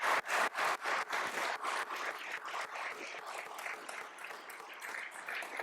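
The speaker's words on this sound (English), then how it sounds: "We can give him a round of applause, please." Applause breaks out from the audience at a public service award ceremony, opening with a few loud, distinct claps that quickly merge into a steady, moderately close round of clapping that continues to the end.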